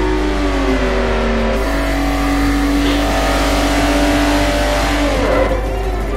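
A Jaguar XJ220 racing in Forza Motorsport 4, its engine droning loud and close as it holds steady revs, then climbs and shifts pitch through gear changes, with no voices.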